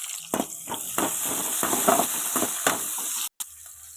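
Mustard seeds, curry leaves, green chili and onion hit hot oil in a village-style kitchen, giving a loud, crackling sizzle with spattering pops and stirring scrapes, ending with a brief cut and fainter hiss.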